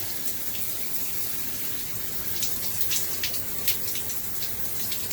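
Water runs steadily from a Delta shower faucet, a constant close hiss of spray with scattered splashes and drips and no one talking.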